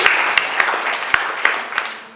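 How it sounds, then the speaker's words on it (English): Scattered applause from a small audience, a steady patter of hands with a few sharper claps standing out, fading toward the end. "Again, clap please."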